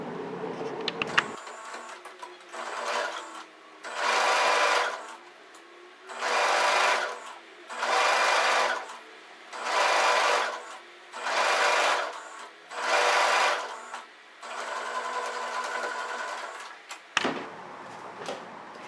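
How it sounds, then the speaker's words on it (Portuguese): A sewing machine stitches a hem across a dish towel in about seven even bursts of rapid whirring, each a second or so long, separated by short pauses, close and clear with no speech. "A gente vai centralizar e passar uma costura aqui de fora a fora."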